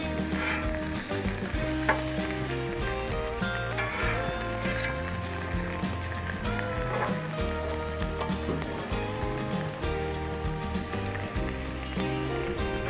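Bacon frying on a Blackstone griddle gives a dense, continuous crackling sizzle, loud and close, with some music playing along underneath and no talking.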